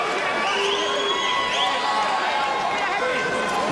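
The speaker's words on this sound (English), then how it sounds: "Definitely a hometown crowd for the Brooklyn native" A hometown boxing crowd roars and cheers for Brooklyn native Paulie Malignaggi against Edner Cherry, a dense, sustained arena din with whistles and shouts under a commentator's voice.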